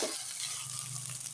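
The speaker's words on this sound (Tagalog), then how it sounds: "Haluin natin ng maigi" Garlic fried rice (sinangag) sizzles steadily in a pan while being stirred, a continuous close frying hiss with soft scraping throughout.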